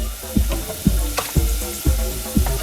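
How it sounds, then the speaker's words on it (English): Fish frying in butter in a flat saucepan, a steady close sizzle broken by about five soft knocks or clicks at regular intervals, with no voices. "Now what I'm going to do is just fry this little bit of fish"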